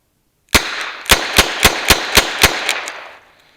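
Ruger GP100 revolver firing seven .38 Special rounds double action outdoors, loud sharp reports in quick steady succession, each shot ringing briefly before the next, with no voices.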